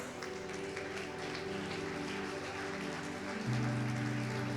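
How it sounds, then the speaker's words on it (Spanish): Sustained audience applause at a church sermon, a dense wash of many hands clapping under a droning hum, growing fuller and louder for the final second. "Yo aplaudiría con más fuerza."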